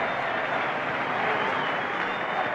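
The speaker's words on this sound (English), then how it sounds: "The crowd coming to life." A cricket crowd at a 1985/86 Test match against New Zealand applauds in a dense, steady wash of clapping that fills the whole moment without a break.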